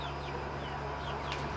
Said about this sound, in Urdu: یہ فائٹنگ والا مرغا